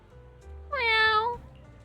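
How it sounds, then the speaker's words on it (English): A single drawn-out meow from a cat in the video game Zenless Zone Zero, clear and close over faint game background sound. "That's my cat."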